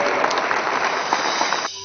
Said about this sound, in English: giving a huge applause to the girls who performed that day